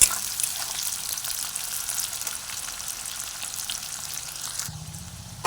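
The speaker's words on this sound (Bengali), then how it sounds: "পেঁয়াজটাকেও লাল ব্রাউন করে আমি তুলে নেব লাল ব্রাউন করে ভালো করে ভেজে নেব" Onions fry in a pan until red-brown for a lightly spiced chicken curry, making a constant near hiss and crackle with a brief clink at the very end.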